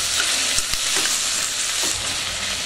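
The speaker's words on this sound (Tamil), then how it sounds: "தக்காளி போட்டுட்டு அதை நல்லா வதக்குங்க." Tomatoes sautéing over a low flame for chicken biryani, with a steady close sizzle and a few soft stirring scrapes and clicks from a spoon in the pan.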